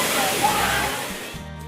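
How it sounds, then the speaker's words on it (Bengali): Moti Jharna waterfall in Jharkhand, a steady broadband rush of falling water that stays loud and continuous before easing slightly near the end. "এখন আমি রয়েছি মতি ঝর্ণায়"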